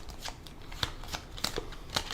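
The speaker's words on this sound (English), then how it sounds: "We'll still shuffle up the deck and deal out 12 cards" A deck of game cards is shuffled up close, with soft, rapid riffling and flicking in uneven bursts. The sound is quiet over low background noise.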